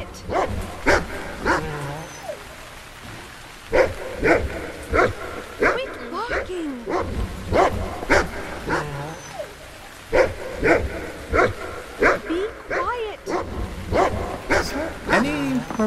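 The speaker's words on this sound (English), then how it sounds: "Be quiet! Quit barking!" Dog barking in The Cave: repeated sharp barks and yips in steady bursts throughout, with whimpering and low talk underneath.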